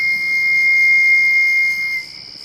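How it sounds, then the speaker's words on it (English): A loud, shrill steam locomotive whistle blows steadily for about two seconds, then cuts off, leaving a faint fading echo through the hills. "a shrieking whistle echoed through the hills."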